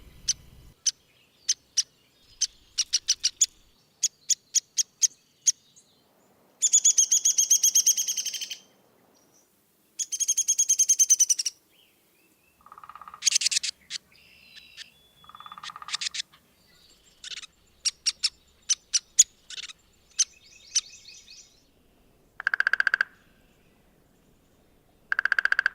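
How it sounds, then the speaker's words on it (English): Downy woodpecker calls ring out in clear separate bursts: sharp single pik notes, then faster descending whinnying rattles, repeated over and over at close range against a quiet background. "And know that that is the downy woodpecker"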